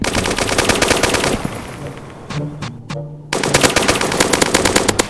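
Gunfire in Roblox A Dusty Trip: loud, rapid automatic bursts, a short lull with a few isolated shots, then another sustained volley at close range.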